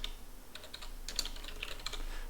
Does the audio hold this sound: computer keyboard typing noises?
yes